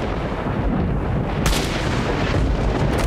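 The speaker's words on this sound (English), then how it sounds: "why are we shooting straight now?" Gunfire from the video game STALKER: Shadow of Chernobyl, a dense, continuous barrage of booming shots and blasts that stays loud throughout, with a sharp burst standing out midway.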